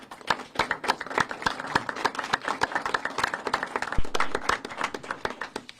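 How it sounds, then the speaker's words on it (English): A small gathering at a county criminal justice event gives a round of applause for the homicide division, with distinct individual hand claps close by forming a brisk, uneven patter throughout. "will you please join me in a round of applause?"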